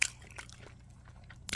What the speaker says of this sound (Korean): 자, 애플파이 먹어보도록 할게요. 아주 바삭바삭할 것 같아요. 겉은 아주 바삭하고요.